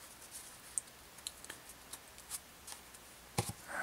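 Magic: The Gathering cards are sorted by hand, giving soft scattered taps, flicks and slides of card stock with a brief papery crinkle near the end, quiet and close.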